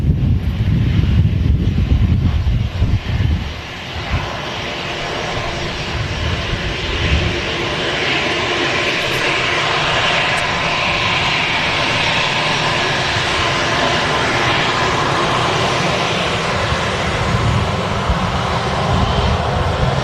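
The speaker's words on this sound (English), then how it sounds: "So we've got Ryanair is the next aircraft to fly in from Bucharest" A Ryanair passenger jet flies in from Bucharest to land at Manchester Airport, its engines giving a steady, loud broadband roar that stays sustained with some wind buffeting throughout.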